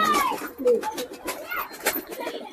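A Napta high-flying pigeon being released, giving soft repeated coos and bird calls close by, with someone talking over it and light handling noise.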